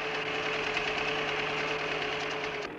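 A tractor on agricultural tyres towing a laboratory tractor hitched to a plough during a 1982 Michelin tyre test: a loud, steady engine drone with a throbbing knock that continues without a break, with no talking.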